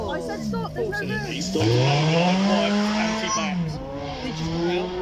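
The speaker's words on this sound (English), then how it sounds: "There it is, the exhaust kicking in, those valves opening" A supercar engine revs hard during a demonstration run at Beaulieu Supercar Weekend, its exhaust rising and falling in pitch with sharp, quick throttle blips as the valves open, loud and close throughout.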